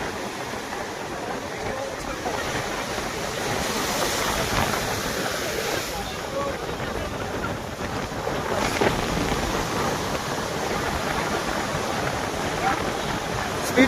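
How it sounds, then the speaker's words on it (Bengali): Big waves crash and surge at high tide on a rough, stormy sea, with roaring surf and wind buffeting the microphone at a steady, loud level. "স্পিড বোট আসতে পারবে না, এত বড় বড় ঢেউ মারছে,"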